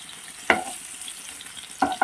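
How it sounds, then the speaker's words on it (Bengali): Pieces of bhetki fish frying in a pan over a medium flame, with a steady soft sizzle and three sharp spatula clinks as the fish is turned. No one speaks. "মাছগুলো এক পাশটা হয়ে গেছে তোমরা এবার উল্টে দিচ্ছি এটা একদম হালকা করে ভাজতে হবে"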